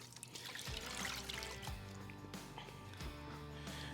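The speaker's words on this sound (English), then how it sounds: "we'll go ahead and throw in a little more water if we need it" Water pouring into a container of brine holding a turkey breast, a soft, close trickle and splash with a few gurgling shifts, fairly quiet and alone.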